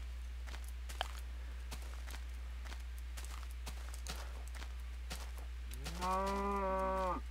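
A cow in the Minecraft video game lets out one drawn-out, wavering moo near the end, after steady game ambience and soft footstep-like clicks.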